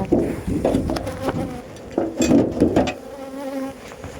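Dense buzzing of many honeybees swarms close by during a honey harvest from a hive, rising and falling in loudness with occasional knocks and rustles underneath.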